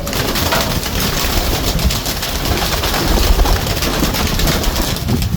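Pigeon cooing outdoors in steady wind, the soft low calls partly buried under constant breezy rumble and microphone wind noise, no one talking.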